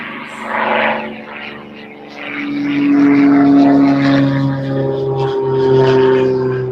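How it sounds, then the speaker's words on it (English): A propeller airplane passes overhead, its droning engine hum swelling from faint to fairly loud and holding steady across a quiet outdoor setting. "Plane overhead."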